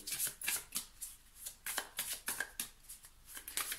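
Tarot cards being shuffled by hand, a close series of quick rhythmic riffling bursts repeating steadily, with no talk.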